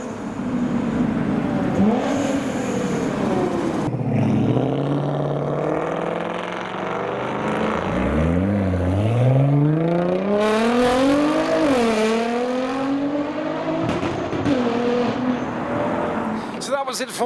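JDM cars, including a GTR, accelerate hard out of the exits of a Supra car meet, engines revving up through rising sweeps one after another, loud and close, with people talking and cheering over them.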